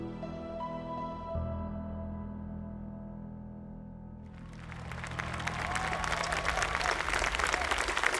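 Music plays at first, then a large crowd at a Mass Effect panel at PAX East 2013 bursts into loud, sustained applause and cheering that swells and keeps going to the end.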